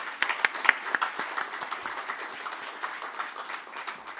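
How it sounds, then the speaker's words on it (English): Brief, fairly quiet round of applause from an audience at a book launch speech, a spread of overlapping claps that holds steadily for a few seconds without any voices. "Can we give Dr. Anton a big round of applause?"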